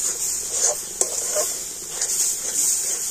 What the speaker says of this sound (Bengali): তো নারকেল গুঁড়োটাও তালের পাল্পের সাথে একটু এরকম নাড়াচাড়া করে নেব।